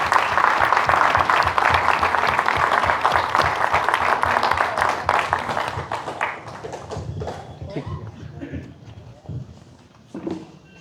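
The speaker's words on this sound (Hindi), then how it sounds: "जोरदार ताली बजाएं।" An audience at an environmental award ceremony gives loud, dense applause that fades away after about six seconds. Scattered claps and faint voices follow.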